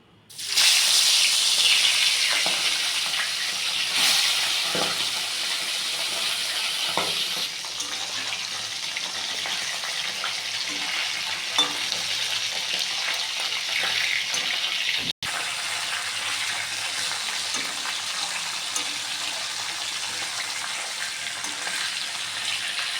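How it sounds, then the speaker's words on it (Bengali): Turmeric and salt coated pieces frying one at a time in hot oil, a loud, steady close sizzle that holds for the whole stretch with a few soft clicks and pops. "হলুদ লবণ মাখানো এবার আমি এক এক করে ভেজে নিচ্ছি"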